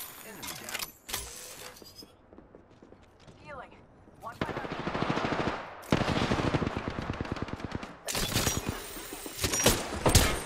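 Rapid bursts of automatic gunfire from an Apex Legends firefight, loud and close, with several sustained volleys separated by brief pauses and a voice talking between them.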